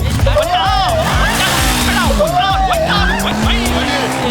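A car's tires squeal in long rising and falling whines over engine rumble and repeated thumps, loud and continuous, with music-like tones mixed in.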